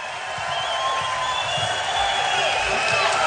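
A large crowd at a campaign rally in Myrtle Beach, South Carolina, in 2016 sends up a sustained wash of cheering and whistles that swells slightly over a few seconds, with a voice underneath.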